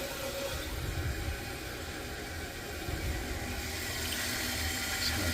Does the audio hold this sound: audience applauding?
no